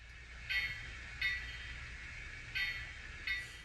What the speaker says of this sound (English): you can hear that backward swing of the bell as the clapper hits the one side